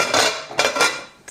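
A flat plate pressed down onto a frying pan holding a cheese omelette on a Landmann Triton 3 grill, giving a few close, sharp ceramic-on-metal clinks and scrapes in quick succession.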